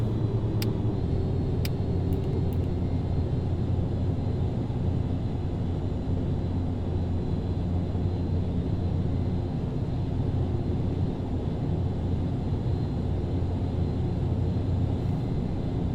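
Steady drone of ATR72 turboprop engines at climb power in a flight simulator, a constant loud low rumble with tonal hum holding unchanged throughout, no speech.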